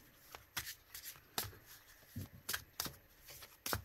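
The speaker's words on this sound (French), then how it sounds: "elles se mélangent très, très bien." Ceccoli oracle cards are shuffled by hand in a quiet room, with a series of soft, crisp riffling bursts and flicks at irregular intervals and no voice.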